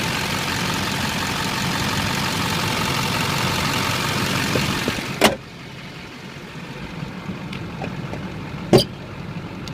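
A 2004 GMC Sierra 4x4 crew cab's Duramax diesel idles with a steady hum for about five seconds. A sharp thud follows and the sound drops to a muffled hush, then a second knock comes near the end, with no voices.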